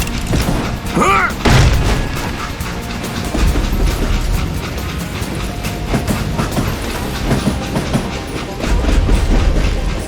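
A train rumbles along the rails in the Western shooter Call of Juarez: Gunslinger, loud and continuous with rolling clatter and heavy low booms, and brief swells of noise on top.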